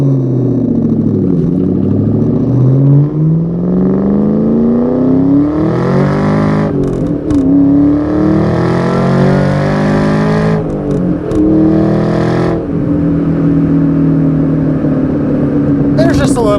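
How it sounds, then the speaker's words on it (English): A supercharged 2003 Ford SVT Cobra 10th Anniversary V8 with an upgraded pulley set revs loud and close, its aggressive exhaust rising and falling over several pulls, with supercharger whine layered on top and a voice talking over it. "Love that Terminator supercharged whine."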